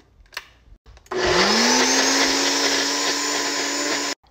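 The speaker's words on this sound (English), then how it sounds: "I added my butternut squash to the blender." A countertop blender whirs loudly and steadily for about three seconds, pureeing cooked butternut squash, starting abruptly with a rising motor pitch and cutting off sharply.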